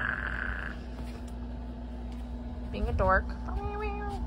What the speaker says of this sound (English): this is my cat being a little tyrant